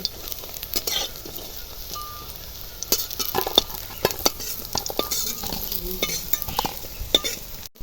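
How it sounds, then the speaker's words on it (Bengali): Drumstick flower fritters (bora) fry in hot oil with a steady, close crackling sizzle, broken by the scrape and clatter of a spatula stirring in the pan. "বাকি বড়াগুলো এইভাবে আমি ভেজে নেব"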